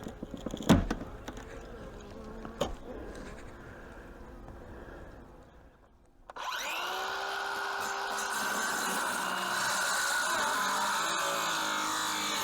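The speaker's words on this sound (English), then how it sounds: "it looks like the bees may go up a couple feet in there" Honey bees buzzing inside a front porch column hive, a thin hum at first, then a loud dense swarm drone that swells abruptly midway and continues steadily up close.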